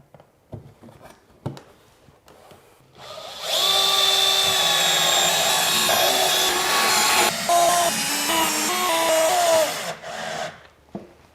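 A power drill drives screws to mount a hood onto a rebuilt table saw in a workshop: a few short taps first, then a loud, sustained whining run of about seven seconds with brief dips, close and alone.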